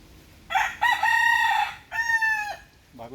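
A rooster crows loudly nearby in two drawn-out calls, followed by a brief chicken cluck at the end over quiet background noise.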